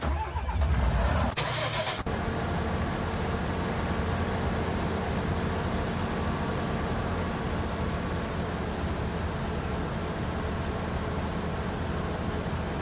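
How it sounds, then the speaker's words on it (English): A truck engine in the Farming Simulator 19 video game runs with a steady, continuous rumble close by, after a brief louder burst at the start, with no talk over it. "Get the truck out of the way."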